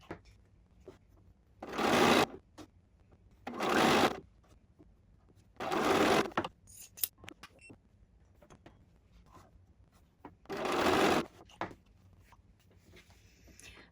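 Sewing machine stitching quilt fabric on the diagonal, heard as four loud whirring bursts of about a second each, with quiet pauses and light handling noises in between and no talk.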